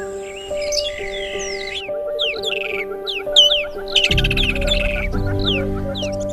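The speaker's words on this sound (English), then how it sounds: "Birds, they're all around us." Many birds call and chirp in a dense chorus, with repeated whistled notes and squawks layered over a steady tonal hum; a low rumbling noise joins in the second half.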